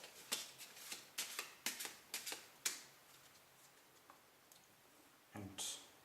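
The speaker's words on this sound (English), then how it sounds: "I can give the deck a quick shuffle" A Bicycle deck of playing cards is shuffled by hand, giving a quick series of crisp riffling snaps and flutters, close and fairly quiet, with a brief pause before a final burst.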